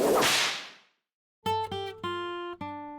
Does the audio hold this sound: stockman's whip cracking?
yes